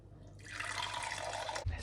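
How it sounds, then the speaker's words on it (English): Coffee pours into a mug in one continuous stream of about a second, a close liquid trickle that starts softly, swells, then stops with a small clunk. "you're just gonna pour your coffee now"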